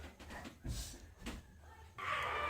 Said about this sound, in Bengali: কি কুকুরগুলো চিল্লাচ্ছে